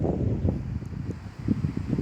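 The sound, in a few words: wind outdoors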